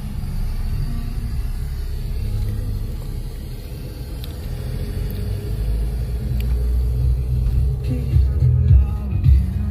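A new car being driven, heard from inside the cabin as a steady low engine and road rumble that swells slightly with a few bumps toward the end; no one speaks.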